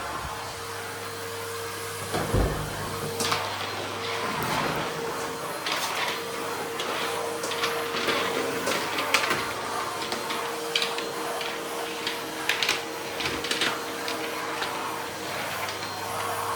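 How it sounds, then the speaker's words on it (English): A vacuum cleaner drones steadily with a constant whine, punctuated by clunks and rattles as it is pushed around. "while I've got the vacuum out, I'm just going to have a quick whiz around"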